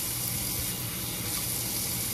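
Water runs from a tap in a steady, hissing stream, a constant close flow with no pauses and no voices over it.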